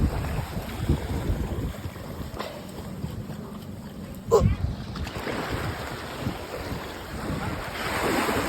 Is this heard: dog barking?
no